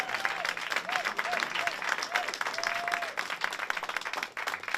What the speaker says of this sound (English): let's give RJ a little round of applause